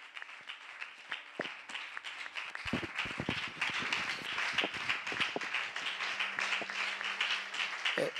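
A crowd applauds steadily, many hands clapping together in a sustained wash of sound that holds for several seconds.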